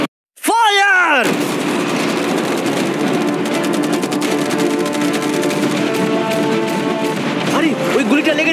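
Sustained machine gun and cannon fire aimed at a yacht rattles as a dense, continuous barrage, loud and close after an opening burst, with voices mixed in.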